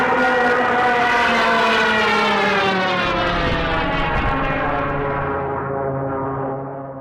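A Stuka dive bomber dives with its siren screeching, a loud rising-then-falling howl layered over roaring engine drone that fades toward the end.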